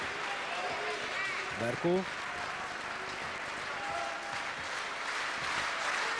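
Scattered applause from the Szolnok home crowd at a basketball game in the arena, a faint, steady patter of clapping beneath a commentator's voice.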